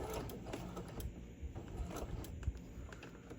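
A sewing machine stitches Velcro onto a fabric iPad sleeve, a quiet, even mechanical whirring throughout.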